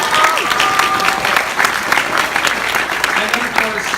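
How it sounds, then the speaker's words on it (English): An audience at an anime film dub premiere Q&A applauds in a steady, dense wash of clapping that fills the room, with faint voices mixed in. "big applause"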